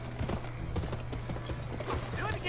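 A horse gallops in a video game, with quick repeated hoofbeats close and fairly loud over a low background hum, with no one talking.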